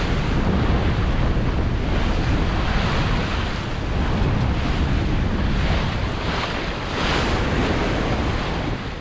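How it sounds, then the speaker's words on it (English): Rough, lumpy sea at sea on a sailing boat off the British coast, with continuous loud wash of waves and heavy wind buffeting the microphone, a dense, unbroken roar throughout. "the sea is extraordinarily lumpy this morning."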